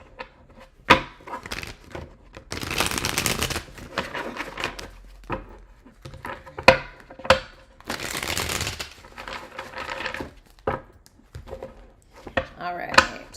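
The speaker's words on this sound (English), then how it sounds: "I don't think I'll need a second deck, but I'll shuffle it just in case" A deck of tarot cards is shuffled in bursts of riffling and slapping, loud and close, with sharp taps between and a voice speaking in the pauses.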